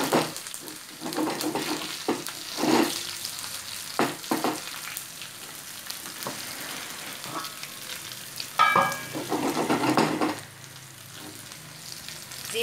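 Cumin seeds frying in a pan with browned onions for a white lobia (black-eyed bean) curry, giving a steady close sizzle broken by scraping stirs and occasional louder bursts, with no talking.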